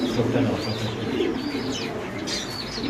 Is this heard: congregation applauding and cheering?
no